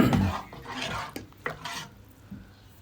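Chicken haleem mixed with black pepper and garam masala, a spoon scraping and stirring through the thick mixture in a pot with scattered clinks, close and fairly quiet, no voices.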